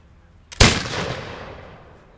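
A flintlock gun fires a single loud, close shot with a sharp attack, and the report decays over roughly a second and a half into near silence.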